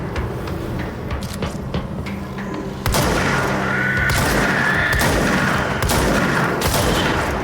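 Enemy explosions and gunfire in the video game Control: a dense run of sharp cracks and bursts, then a sustained loud roar of blasts and debris from about three seconds on, with no voices.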